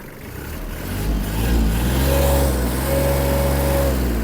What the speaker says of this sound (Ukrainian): Давайте ще звідси дамо газу.